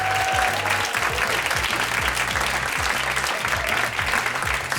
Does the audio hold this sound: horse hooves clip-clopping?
no